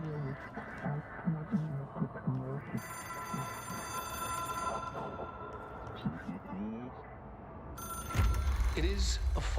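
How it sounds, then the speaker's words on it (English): A telephone bell rings in repeated bursts, its bright metallic trill rising and falling under a person talking over it. "That phone ringing is about ready to drive me insane."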